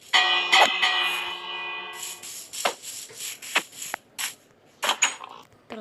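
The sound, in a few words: bell ringing in Minecraft video game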